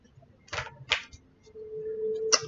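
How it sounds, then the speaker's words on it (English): A deck of tarot cards is shuffled by hand in a quiet room, giving three short, crisp riffling bursts separated by pauses over a low hum. "I'm still shuffling these cards."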